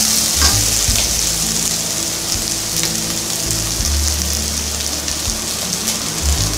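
Onions crackle in very hot oil for a vegetable pulao lunch box, a loud, continuous close-up sizzle like hard rain on a surface, with no voices.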